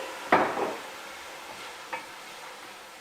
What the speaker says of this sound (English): I'm gonna add just a little bit of white wine to the pan. This deglazes the pan.